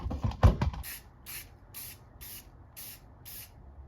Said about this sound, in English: Just gonna hit it with some self-etching primer.